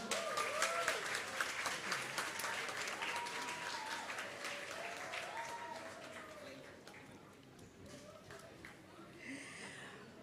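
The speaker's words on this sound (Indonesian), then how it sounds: "Kita berikan tepuk tangan yang meriah." Audience applause at the final of the Bintang Radio Indonesia singing competition in Singaraja, a steady wash of clapping that lasts the whole stretch, with a host's voice carrying over it and slowly easing off toward the end.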